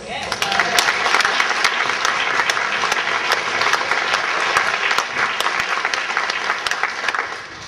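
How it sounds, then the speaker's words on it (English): An audience at a speech bursts into loud, sustained applause, dense clapping from a large crowd filling the room evenly for several seconds before beginning to fade slightly at the end. "We'll see how many more rounds of applause I get."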